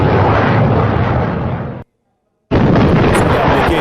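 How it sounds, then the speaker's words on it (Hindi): Guided bomb striking an American Bradley armored vehicle: a loud, sustained explosive roar cut off by a brief silence, then another heavy blast rumble resumes. "अमेरिकी ब्रैडली पर दागा गाइडेड बम, भीषण विस्फोट से ब्रैडली धुआं धुआं।"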